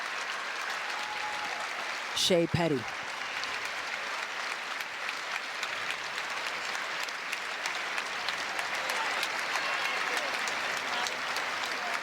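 Arena crowd at a Seattle Storm basketball game stands and applauds an injured player being stretchered off, a steady broad wash of clapping and crowd noise throughout, with a commentator talking over it and a brief loud burst near the start.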